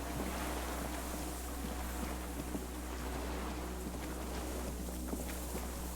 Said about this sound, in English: Distant sound of cargo ships.